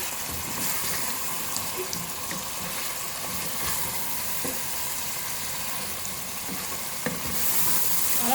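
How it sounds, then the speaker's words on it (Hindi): Beef nihari meat roasts with spices in a pot, giving a steady, close sizzle with occasional soft stirring scrapes, loud and unbroken throughout, with no voices. "मसाला जात के साथ अच्छी तरह से भून लिया है।"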